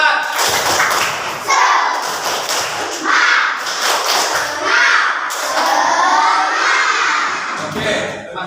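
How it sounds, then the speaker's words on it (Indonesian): A classroom of children doing a rhythmic 'tepuk semangat' spirit clap, sharp claps in patterned bursts mixed with shouted chanting voices, loud and close, running for several seconds. "tepuk semangat."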